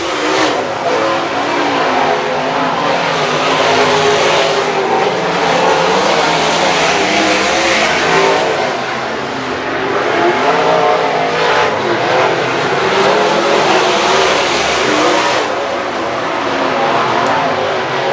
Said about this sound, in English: Kyle Fedix under the 91 running hard in second